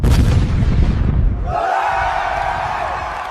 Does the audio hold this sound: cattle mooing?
no